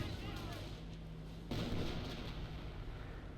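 A StuG assault gun fires in Company of Heroes, a sharp boom landing midway through a steady low rumble of battle noise, with a thinner crack earlier and dense explosive texture throughout at moderate distance.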